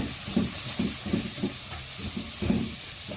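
Vegetable fried rice stirred in a hot pan over a constant sizzling hiss, with rhythmic scraping strokes of the spatula repeating every few tenths of a second, close up.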